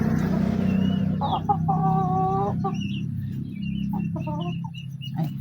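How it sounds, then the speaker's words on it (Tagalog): Chickens cluck close by in short, repeated bursts, with several birds calling over a steady low background hum near a house. "ayan mga manok"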